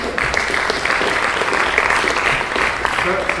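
An audience applauds panelists at a political foreign policy event, a full, steady burst of clapping from a crowded hall that carries on throughout, with a voice faintly beneath it.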